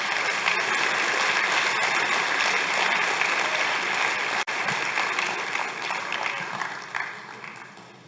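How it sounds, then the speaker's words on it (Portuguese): A church congregation applauds together in sustained, dense clapping that fills the space evenly, tapering slightly toward the end. "Então vamos aplaudir ao Senhor"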